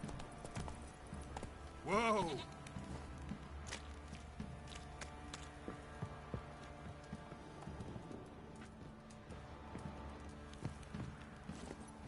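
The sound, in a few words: horse hooves clip-clop, from a video game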